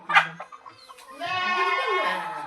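A young goat bleats close by, a drawn-out wavering cry after a few brief sharp sounds.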